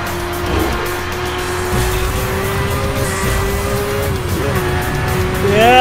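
Porsche racing in Need for Speed Hot Pursuit, a steady loud engine drone with a rising whine near the end, tires hissing and squealing throughout.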